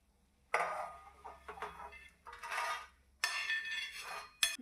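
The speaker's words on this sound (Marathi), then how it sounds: "आता आपण गॅस बंद करून एका परातात काढून घेऊ।" Roasted prawns are scraped and tipped from a pan onto a metal plate, with several bursts of metallic scraping and clinking of a spatula against metal, close and clear, no talk.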